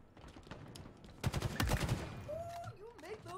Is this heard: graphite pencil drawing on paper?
no